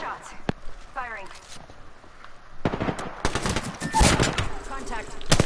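Apex Legends gunfire: a few sparse, distant-sounding shots at first, then louder rapid automatic bursts crowd the second half, with voices talking over the action.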